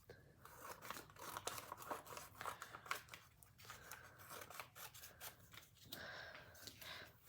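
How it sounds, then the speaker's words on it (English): Scissors snip through colored paper, a close series of repeated crisp cuts and rustling paper, with a soft voice briefly in the background. "Now I'm going to cut them."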